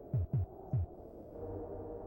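A sped-up heartbeat from the SNES game Populous plays as a quick run of three deep, throbbing low thumps, followed by a lingering low electronic hum.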